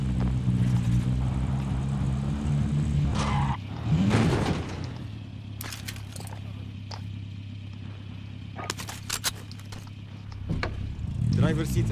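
A car driven in Call of Duty: Modern Warfare, its engine droning steadily with a rev and tire squeal, then settling to a lower hum under voices and sharp clicks.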